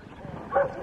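Sled dogs hooked up on an Alaskan winter mushing line give eager yips and whines, a brief burst of excited canine noise mixed with nearby voices.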